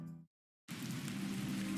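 Rain falls in a steady, dense hiss that starts abruptly after a brief tonal sound and a short silence, then continues evenly and fairly close.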